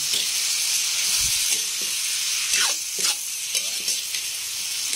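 A kangkong stir-fry sizzles loudly in a pan after soy sauce goes in, a constant hissing fry with a few stirring scrapes and no voices.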